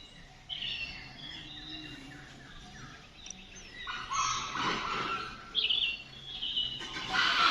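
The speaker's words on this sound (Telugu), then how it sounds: "అడవి కోళ్ళు" Wild junglefowl calling outdoors in the early morning, with several loud crowing calls rising over a steady chorus of chirps and distant bird song, near a hillside temple in Tirumala.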